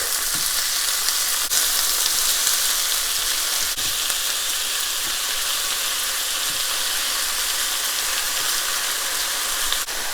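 Thin-sliced pork fries hard in a hot pan for udon soup, a loud, dense, unbroken sizzle and spatter with a few faint clicks, close up with no voices.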